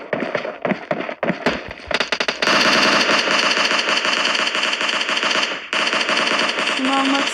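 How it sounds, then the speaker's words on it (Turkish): Gunfire in the mobile battle-royale game PUBG Mobile Lite: a few scattered shots, then sustained loud automatic bursts that rattle on for several seconds with brief breaks. "Bak bizim bir gene bana sıkıyor."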